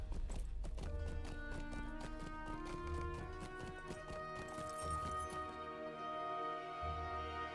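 Horse hooves gallop in a steady clip-clop rhythm, a mount ridden in The Lord of the Rings Online video game in the Kingdoms of Harad, heard over layered game music.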